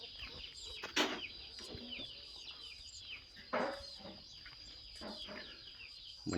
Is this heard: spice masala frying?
no